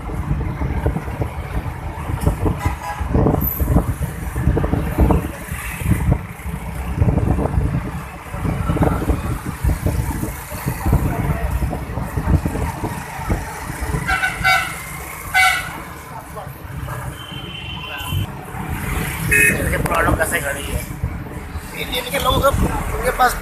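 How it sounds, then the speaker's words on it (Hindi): Congested road traffic crawls past a roadside construction zone at a Noorpur stop in Faisalabad's Green Town, with steady engine rumble and scattered horn toots under continuous talking. "ये इधर रोड बन रहा है, इसलिए ट्रैफिक थोड़ी सी जाम हो जाती है"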